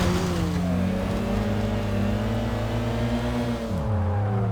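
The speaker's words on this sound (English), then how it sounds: "that's a bit of a turbo kicking in there" A car in the Kaido Racer 2 racing game drones at steady high revs, with layered rising engine tones and a whirring turbo, then a sudden pitch drop as it shifts, loud and close.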